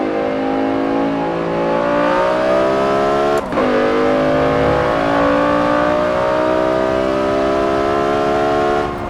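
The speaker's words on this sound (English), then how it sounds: "That is the sound of a naturally aspirated V10 engine" A BMW M5 E60 with a naturally aspirated V10 revs in Forza Horizon 4, a loud, sustained high-pitched engine wail climbing through the gears with a brief shift dip partway.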